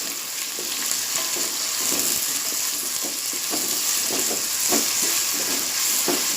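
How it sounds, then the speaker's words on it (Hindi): Onions frying on full flame until golden, a loud continuous sizzle with soft irregular crackles and stirring, no voices. "इन्हें प्याज गोल्डन होने तक तलूँगी। मैंने गैस फुल आंच पर रखी हूँ।"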